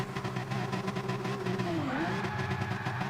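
Race cars in a Barcelona sim racing event rev hard at the start, a dense layered engine roar with rising and falling pitch, tyres spinning as the pack launches.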